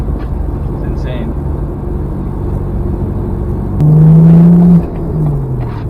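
A 2013 BMW 135i with a six-speed manual drives fast, making a low, steady engine rumble with road and wind noise. The engine swells briefly in a strong rising drone, and voices talk over it.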